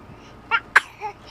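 A baby girl makes small sneezes and soft vocal noises, two sharp bursts followed by a quieter sound, close and fairly faint in a quiet room.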